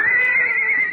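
A short, loud, high-pitched horse whinny sound effect from a 1948 radio comedy broadcast, held for about a second, wavering slightly in pitch, like a horse neighing close by.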